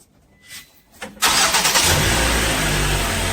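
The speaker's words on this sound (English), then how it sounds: "So I'm going to start my car." A car engine cranks and catches about a second in, then settles into a steady, fairly loud idle after a quiet opening with faint clicks.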